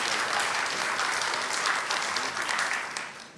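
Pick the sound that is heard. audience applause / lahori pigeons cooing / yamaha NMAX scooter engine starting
audience applause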